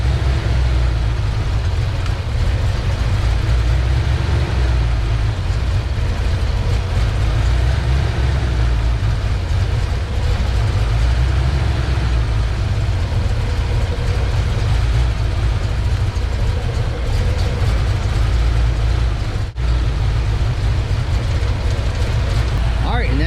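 A car engine running steadily with its ignition timing set to 8 degrees, a loud, continuous low rumble that holds even throughout, with a brief dip near the end and no speech.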